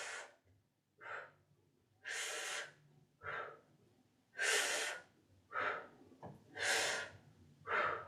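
Slow, deep breaths taken during a guided embodiment and pleasure exercise, with airy inhales and exhales alternating in a steady rhythm, close and fairly quiet, with no talking.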